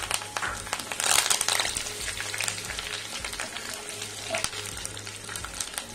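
Curry leaves and halved dried red chillies crackle and sizzle steadily in hot oil in a mustard seed tempering for temple-style puliyodharai, close and continuous with a few sharp pops.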